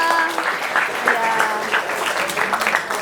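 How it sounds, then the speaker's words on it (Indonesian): An audience in a school guidance-class session claps for a student named Bang Bintang, a brief burst of crowd applause mixed with voices and chatter running through it. "tepuk tangan buat Bang Bintang"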